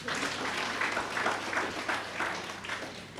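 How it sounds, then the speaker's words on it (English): Fairly faint, somewhat distant applause rises from the audience at the commissioning ceremony of W.S. Stevens Primary School in Marigot, pulsing in loose, rhythmic swells of clapping without any speech over it. "Give him a round of applause"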